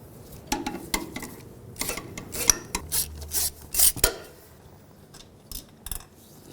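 A ratchet with an 8mm socket works the transmission dipstick tube bolt on a 1997-2003 Ford F-150, giving close rasping clicks in uneven bursts with metallic rubbing between, no talk.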